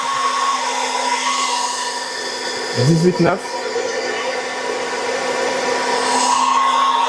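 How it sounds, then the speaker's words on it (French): The cooling fan of a high-pressure air compressor whirs loudly with a constant drone and hum, briefly disturbed by a short voice in the middle before running on unchanged. "on a ce bouton là qui allume le ventilateur, qui est assez bruyant, comme vous l'entendez"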